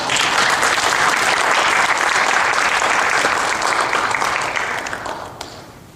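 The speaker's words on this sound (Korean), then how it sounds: "선교사님 앞으로 나오실 때 우리가 박수로 환영하겠습니다." A church congregation claps to welcome a missionary to the front at a mission service, steady full applause throughout that thins and fades in the last second.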